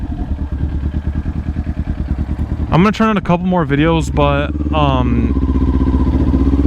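Dual-exhaust motorcycle engine rumbling steadily while riding, a continuous close throbbing drone as someone talks over it.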